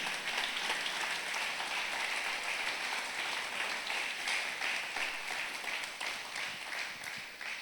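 Sustained, fairly loud applause from a church congregation praising the Lord, an even wash of many hands clapping that tapers slightly at the end, with no talking over it.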